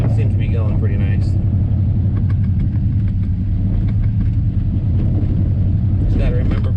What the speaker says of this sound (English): I'm in four-wheel drive right now and driving my old Chevy pickup, and it seems to be going pretty nice